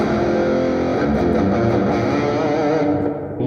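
An electric guitar runs through a Two notes Captor X post-metal preset, producing a dense wash of heavily distorted chords drenched in long reverb that holds evenly loud for several seconds before thinning slightly at the end.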